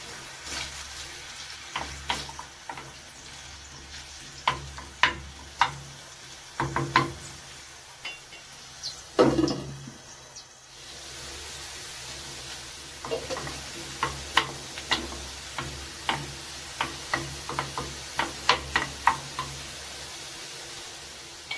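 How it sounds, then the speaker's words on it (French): Onion softening in a pan over very low heat for an Algerian minced-meat sauce: a quiet, steady sizzle with intermittent scraping stirs and light clicks of a utensil, spaced irregularly throughout. "On met le tout sur feu très doux et on laisse l'oignon ramollir un peu."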